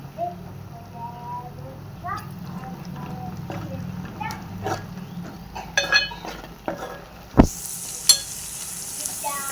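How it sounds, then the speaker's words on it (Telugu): Onions fry and soften in a pan with a bright, continuous sizzle, joined by clinks of a stirring spoon against the metal while a voice talks over the cooking. "సో ఇలా మగ్గించుకోవాలండి ఉల్లిగడ్డని"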